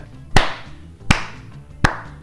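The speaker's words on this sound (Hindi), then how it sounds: "तभी अचानक उनके पीछे से तालियों की आवाज आती है" Three slow, deliberate hand claps ring out from behind, evenly spaced and sharp, each trailing a short reverberant decay over a quiet musical backdrop.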